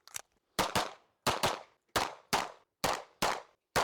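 Rapid gunshots from a competitor running a practical shooting stage, about ten sharp, loud cracks with short ringing decays, many fired in quick pairs separated by brief pauses, with no talking.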